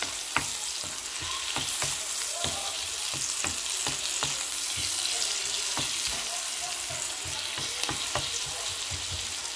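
Onions frying with garlic and butter in a pan, a bright continuous sizzle with regular scraping stirs and light clinks of a utensil, close and steady.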